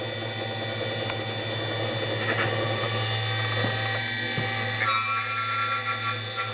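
A brass case prep unit for reloading .223 cartridges runs on a flimsy workbench, giving a steady loud vibrating machine hum with a high whine, continuous throughout with no talk.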